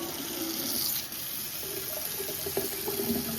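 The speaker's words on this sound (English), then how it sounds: "So I will open the tap, let the water flow" Water runs steadily from a kitchen tap, a continuous close hiss and splash with faint clinks near the end.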